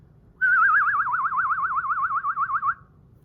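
A person imitates a bird with a single warbling whistle. The pitch wobbles rapidly up and down in a steady trill that lasts over two seconds, close and clear against near silence.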